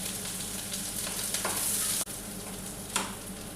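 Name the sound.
chopped onion frying in oil with mustard seeds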